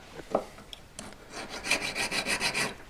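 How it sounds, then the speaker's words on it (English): A few scattered taps and clicks give way to a run of rhythmic rasping strokes as a metal file works a V-claw jewelry setting, close and moderately loud. "Be careful not to hit your pliers with your file."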